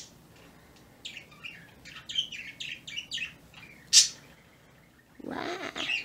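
Small birds chirp in a rainy outdoor setting, with a scattered run of short tweets and one sharper loud call, fairly faint against a soft background hiss, ending in a brief rustling noise.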